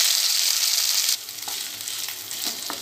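Five large pieces of boiled potato frying in a little hot oil in a kadhai over a medium flame, a loud steady sizzle that drops abruptly and then crackles more softly with faint stirring clinks.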